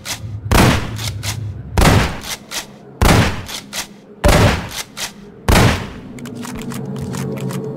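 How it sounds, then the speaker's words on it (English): Five shotgun shots from the video game Project Borealis, each a punchy close blast roughly every 1.2 seconds with a short mechanical rack after, over steady low ambient game hum; the last shot is followed by lingering clicks and background noise. "Now here's what it sounds like in Project Borealis."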